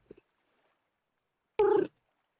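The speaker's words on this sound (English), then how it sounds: "Did everyone hear the meow?" A pet cat gives one short, clear meow close to the microphone after a brief quiet stretch, with a faint small sound at the very start.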